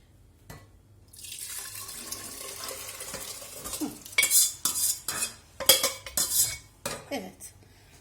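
Spinach soup poured from a ladle into a bowl, soft liquid trickle followed by sharp clinks of the metal ladle against pot and bowl, close and irregular, no talk.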